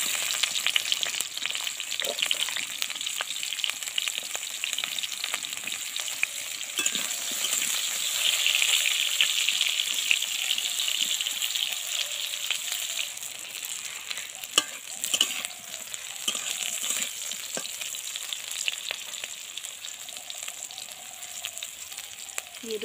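Green plantain pieces fry in hot oil in a pan, giving a steady, close sizzle and crackle throughout, with occasional stirring clinks and scrapes and no talking.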